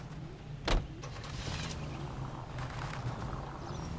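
A car commandeered by the player in the L.A. Noire video game hums steadily throughout, with a brief sharp thump near the start, like a door or window.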